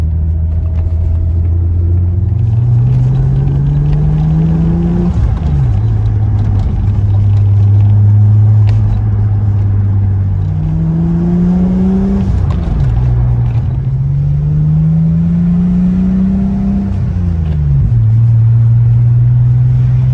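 A BMW E34 535i inline-six runs smoothly without misfire while driving, a loud steady engine drone rising and falling in pitch through several gear changes.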